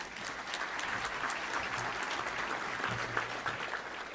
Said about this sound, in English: So round of applause for his parents